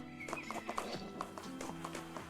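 Horse hooves clip-clop steadily in a video game, with whinnying and a faint voice underneath, close and evenly paced.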